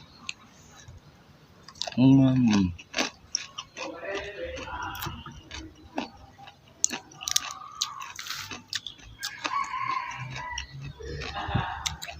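Spicy papaya salad eaten outdoors, with close, wet chewing and crunching bites in irregular bursts, broken by a voice talking between mouthfuls.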